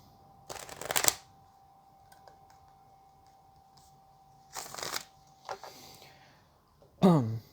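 Tarot cards shuffled by hand in three brief bursts of riffling, close and crisp, separated by quiet pauses with a faint steady hum underneath.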